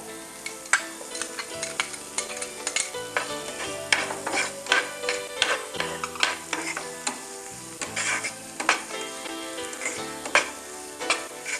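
Beans and sweet corn being sautéed in a pan for an Onam dish, a busy run of quick spatula scrapes and taps over a soft sizzle, close and steady throughout, with melodic background music underneath and no talking.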